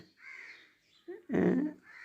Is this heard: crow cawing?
yes